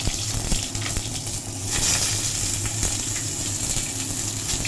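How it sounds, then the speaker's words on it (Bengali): Brinjal pieces dropped one by one into hot oil and frying, a moderately loud crackling sizzle with a surge near the two-second mark, steady and close, no voices. "তেলটা গরম হয়ে গেছে, এবার আমরা একটা একটা করে বেগুন দিয়ে দেবো।"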